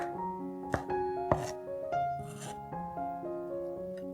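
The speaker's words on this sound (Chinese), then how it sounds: "然后切成条状" Knife cuts vegetarian ingredients such as pineapple and lettuce into strips for a Penang-style noodle dish, a few distinct chops on a board under soft background music.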